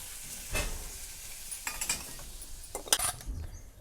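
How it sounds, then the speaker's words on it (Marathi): Cumin and mustard seeds sizzle in hot oil in a kadhai, a close crackling fry broken by a few sharp pops and brief utensil scrapes. "तर तेल छान असं तापलेलं आहे फोडणीसाठी मी जिरी एक चमचा टाकून घेतले मोहरी टाकले"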